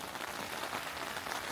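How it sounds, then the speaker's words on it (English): Heavy rain falls during a storm in Death Valley, drumming on the ground and nearby surfaces after a canopy has blown away. A dense, even patter runs through the whole brief stretch, fairly faint, with no voices. "It is raining like a motherfucker."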